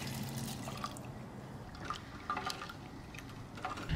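Water pours into a camp cooking pot holding lentils, seasonings and tomato powder, a soft close trickle with scattered drips and splashes over a low background rumble, no talking.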